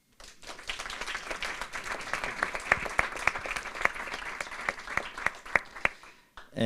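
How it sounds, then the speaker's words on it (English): An audience applauds steadily at a bootcamp demo day, dense clapping that holds for several seconds with a few sharper individual claps standing out near the end. "Please, big applause for them."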